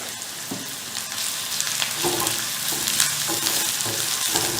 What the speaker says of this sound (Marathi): हे छान आपण परतून घेऊया. त्याच्यात 2 ते 3 कढीपत्त्याची पानं घातली तरी चालेल, छान लागतं.